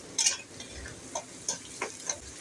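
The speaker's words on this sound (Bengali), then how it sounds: "আমার পেঁয়াজ ভাজা হয়ে গেছে" Onions frying in a pan, giving a steady sizzle with several sharp clinks and scrapes of a spatula stirring, close and fairly clear with no talking.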